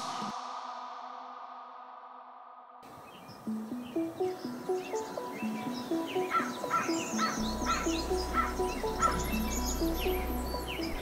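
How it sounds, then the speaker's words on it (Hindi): Birds chirping in the city of Karachi, a busy mix of repeated high tweets and calls with some crow-like caws, steady rhythmic chirps over a low background hum, moderately near with no talk. "परिंदों की ये चहचहाहट कराची शहर में अब बहुत कम सुनाई देती है।"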